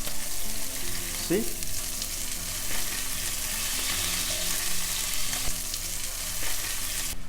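Kangaroo burger patties fry slowly in a pan on low heat, giving a steady close sizzle and crackle with occasional scrapes; a single brief spoken word near the start.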